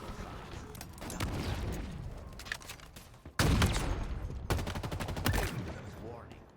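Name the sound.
assault rifle gunfire in the video game Halo Infinite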